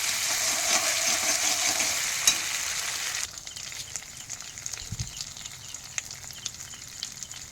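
Potatoes for vegetarian aloo dum sizzle steadily in a hot pan, a loud frying hiss for about three seconds that then drops to a quieter simmer with occasional faint pops.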